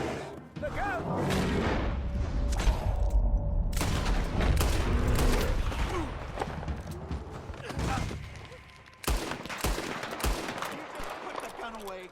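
Gunfire in Red Dead Redemption 2: a rapid fusillade of loud, close shots and heavy booms over a rumbling background, easing to a lull before a fresh burst of cracking shots, with shouted voices mixed in.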